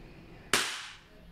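A WE Glock 35 Force T7 airsoft gas blowback pistol fires a single sharp, loud crack that decays quickly, with quiet room noise before it and no talk.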